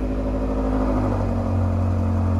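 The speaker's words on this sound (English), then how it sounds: "meaning a louder exhaust and some crazy cold starts" A BMW exhaust with its valves held open gives a steady, deep, loud rumble at idle, close and continuous with no talking.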